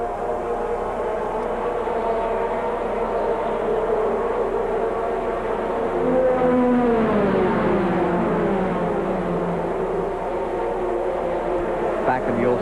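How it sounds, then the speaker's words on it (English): Race cars roaring around the track at the 1994 Champion Spark Plug 300, a steady loud engine drone with a car passing and pitch sweeping down near the middle, under broadcast commentary. "Payne's working on him, so they got a good little race going there too"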